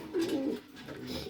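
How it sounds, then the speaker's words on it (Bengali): Pigeons coo in a breeding loft, one soft, close coo rising out of quiet surroundings in a short burst. "আর এদিক দিয়ে মায়ের দিক থেকে স্টিফেন লেমব্রেসের কবুতর আসছে"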